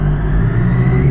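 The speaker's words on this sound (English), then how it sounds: "What you've just seen is the tip of the iceberg of the Daytona 675R's engine." A Triumph Daytona 675R motorcycle engine revs hard and close, a loud, steady, droning roar held for the whole short moment.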